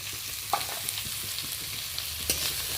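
Chopped onion drops into hot oil with black cumin and sizzles steadily, with a few soft clinks of stirring near the start and again toward the end.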